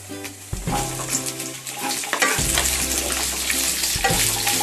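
Onions frying for chilli jackfruit, a loud, steady sizzle in a hot pan with clinks of a spoon being stirred, no voices.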